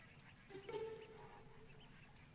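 Cartoonish ducks quack a few times in the horror video game Duck Season, one clear quack standing out over faint background game noise, quiet overall with soft clicks scattered around it.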